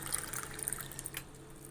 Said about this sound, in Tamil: 2 கிளாஸ் ஊற்றிக்கிறேன் நான்.